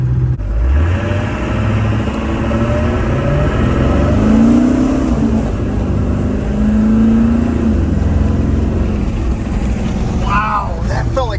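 A Ford OBS diesel truck with a turbo pulls hard through first gear, a steady loud engine drone rising in pitch as it winds up, with talking over the engine throughout.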